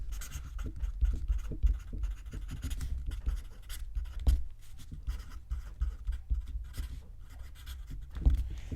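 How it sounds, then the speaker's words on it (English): Writing on paper close up, done in a quiet whispered travel-agent role-play setting. A pen scratches and scribbles continuously in short, uneven strokes, with no voices. "I'll write that down."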